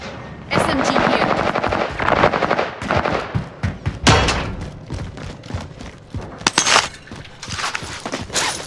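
Call of Duty Warzone match on Rebirth Island with loud bursts of SMG fire, rapid rattling volleys coming in repeated clusters between short gaps, close in the mix.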